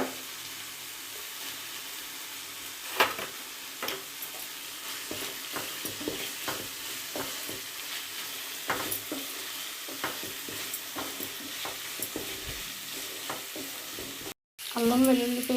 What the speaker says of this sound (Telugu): టమాటా పేస్ట్ ఇలా ఫ్రై అయిన తర్వాత అల్లం వెల్లుల్లిపాయ పేస్ట్ వేసుకుందాం